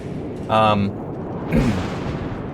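An explosion in the Mad Max video game: one loud, broadband blast lands midway, following a briefer tonal game sound, all over a steady background of game ambience.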